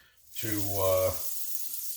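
Beef broth is poured into a pan of onions for French onion soup, a brief splashing pour with a voice speaking over its start.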